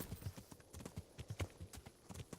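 Horse hooves clip-clopping in the medieval role-playing game Kingdom Come: Deliverance, a steady run of soft, evenly spaced hoof falls at moderate distance with no voices.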